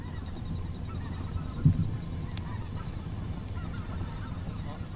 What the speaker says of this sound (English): Specklebelly geese flying over.